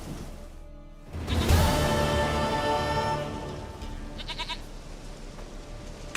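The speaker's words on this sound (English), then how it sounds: "Goat of mine, dearest, sweetest goat" A goat in The Witcher 3 gives one loud, wavering bleat up close. Softer rustling and faint background sounds follow.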